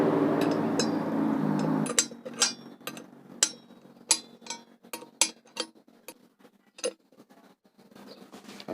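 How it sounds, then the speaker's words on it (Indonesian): A wrench tightens the wheel bolts on a Suzuki Satria motorcycle fitted with an RCB SP 811 eight-spoke rim, giving a run of sharp metallic clicks and clinks at an uneven pace after a short stretch of louder noise. "setelah bautnya sudah masuk semua, kita kencangkan menggunakan kunci 12."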